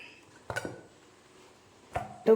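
Cut brinjal pieces tipped into a metal vessel while cooking, giving a few sharp clattering knocks of dish and utensil, one early cluster and two more near the end, with quiet between.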